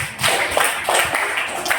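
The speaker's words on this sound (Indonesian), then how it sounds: "Tepuk tangan untuk Fitri" Classmates applaud a student in a classroom, a short burst of dense, fairly loud clapping from a small group that stays even for under two seconds.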